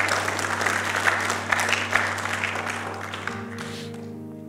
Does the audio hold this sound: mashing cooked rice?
no